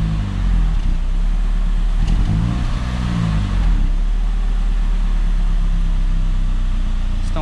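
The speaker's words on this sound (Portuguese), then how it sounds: "E o barulho do carro fica outro. Vocês podem ver que já tá bem silencioso." A Peugeot 206 three-cylinder turbo engine revs after an exhaust repair, sounding up close and loud as a steady low drone, with a couple of short rises in pitch.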